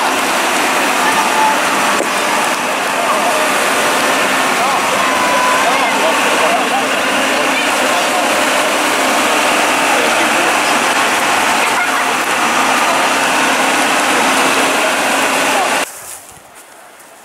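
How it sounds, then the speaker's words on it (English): The engine of the sea tractor crossing the sea to Burgh Island runs in a steady, loud drone mixed with wind and splashing water, cutting off abruptly near the end. "So the sea tractor is just coming across now."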